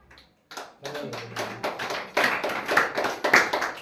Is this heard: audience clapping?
yes